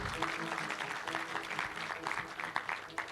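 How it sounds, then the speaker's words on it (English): Crowd at the WWF-Kenya annual report launch claps steadily, a dense continuous patter of many hands with no gaps throughout. "A big round of applause."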